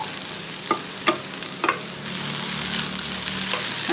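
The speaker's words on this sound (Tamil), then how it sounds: "நல்லா கலந்து விட்டுக்கோங்க." Okra stir-fry with coconut being stirred in a pan: a few sharp spatula taps, then a continuous close frying sizzle that swells slightly toward the end.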